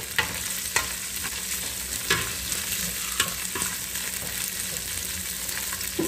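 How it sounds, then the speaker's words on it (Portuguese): Torresmo (pork cracklings) frying in a pan, bubbling and crackling in a dense sizzle with scattered sharper pops and light utensil scrapes, close and steady, with no voices. "Vou deixar fritar, gente, o torresmo"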